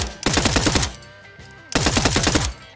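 Two rapid automatic bursts of gunfire from a tactical first-person shooter game, each a loud string of about ten quick shots separated by a short pause.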